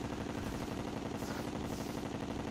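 Rapid gunfire aimed at the Moon Lord boss in Terraria, a dense continuous stream of quick shots mixed with battle noise and music.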